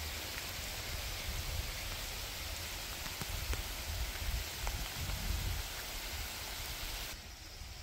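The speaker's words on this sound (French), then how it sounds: "mais les minuscules gouttes de pluie dans l'eau" Tiny raindrops patter on water in a soft, even hiss, faint and steady, with a few brief ticks and no talk.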